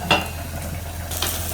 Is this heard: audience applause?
no